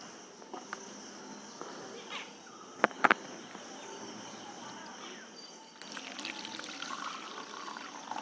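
Water is poured into a plastic container set out for birds on a rooftop, a soft steady splashing that starts partway through over faint insect chirring, with a few brief knocks before it.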